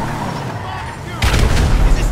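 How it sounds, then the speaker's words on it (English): Sticky bombs go off in GTA 5 Online with a sudden loud, deep boom and rumbling blast after a stretch of lower in-game noise. Someone talks faintly in the background. "he's throwing sticky bombs on it"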